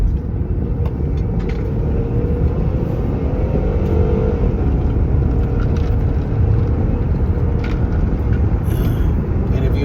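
Steady low rumble of a car cruising on a short drive near home, continuous engine and road noise at constant level throughout with no distinct events.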